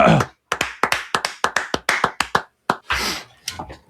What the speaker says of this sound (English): I'm going to give a golf clap.